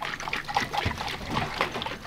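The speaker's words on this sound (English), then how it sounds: "And we're just going to keep shaking and letting it all go together." Homeopathic pellets shaken in a small container of water for succussion give a quick wet sloshing and trickling rattle, continuous and close, with no voices.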